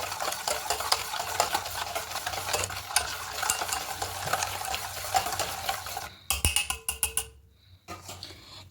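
A spoon stirs half a cup of fine-grain sugar into a batter in a bowl, producing steady rhythmic scraping and swishing, then a pause broken by a few sharp knocks against the rim.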